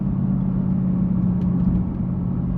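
A Mercedes-AMG GT accelerating hard, its engine a loud, steady, close rumble that holds strong throughout with no voices over it.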